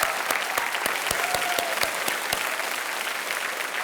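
A studio audience on a televised Indian quiz show applauds a contestant taking the hot seat, with steady clapping where a few sharp, loud claps stand out near the start before the sound settles into an even wash.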